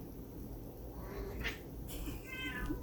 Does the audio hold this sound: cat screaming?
yes